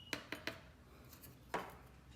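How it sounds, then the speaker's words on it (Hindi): Eggs for egg halwa are beaten with a spatula in a bowl, giving a few sharp utensil clinks: three quick taps, a pause, then one more knock, with faint kitchen ambience between. "और अब इसको हम थोड़ा सा बीट कर लेते हैं। आप चाहें तो हैंड ब्लेंडर से भी कर लें, स्पैचुला से भी कर सकते हैं"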